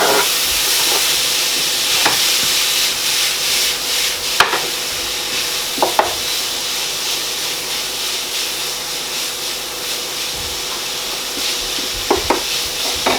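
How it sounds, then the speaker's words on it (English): Onions frying on very high heat in a pot with browned meat for a spaghetti bolognese, a steady loud sizzle and hiss with occasional scraping stirs and clinks, close up, no talking. "I'm going to add my onions into it right away because I want them to soften up"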